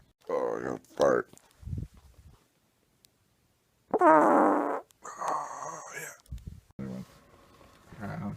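Several short farts from a man, some sputtering and some longer and drawn out, come in separate bursts with pauses between them. People talk and laugh around them.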